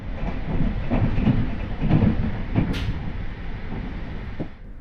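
A Polish domestically built express intercity train pulls into Zawiercie station, heard from onboard as a rumbling ride with rhythmic clicks and thumps over rail joints, easing off near the end.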